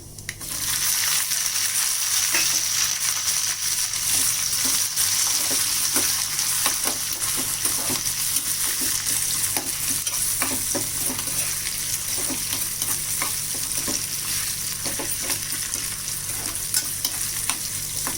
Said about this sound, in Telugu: ఇవి బాగా వేగిపోవాలి ఏగిపోయేదాకా ఫ్రై చేసుకుందాం